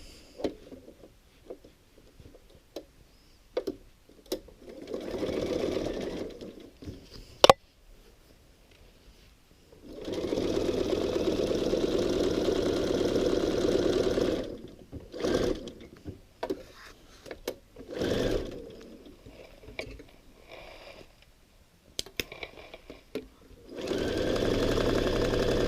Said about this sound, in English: then we will start sewing